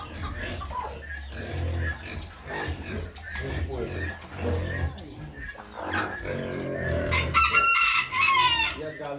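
A rooster crows repeatedly on a rustic ranch in rural Goiás, Brazil, its calls rising over steady low farm noise while someone talks nearby throughout.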